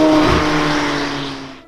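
A McLaren 720S in Sport mode lets out a loud, close engine rev whose high-pitched roar holds briefly, then fades away over under two seconds, without any voices.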